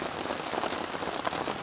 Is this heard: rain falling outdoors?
yes